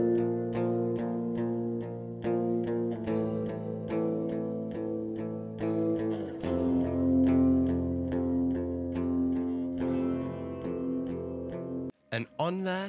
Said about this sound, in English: I have hybrid reverb, chorus, and more hybrid reverb